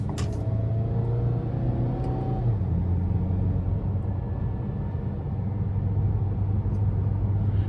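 A 2026 Ford Maverick Lobo AWD pickup engine rumbles steadily while driving, with a low drone that shifts in pitch as it accelerates, heard from inside the cab.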